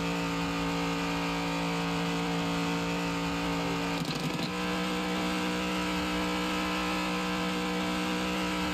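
A car engine idles in Hand Simulator with a steady mechanical hum and whir, and a brief clatter in the middle where it is touched.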